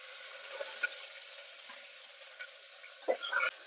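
Green chili, tomato and mint leaves sautéing in a pan, a faint steady sizzle with a few soft stirring scrapes near the end.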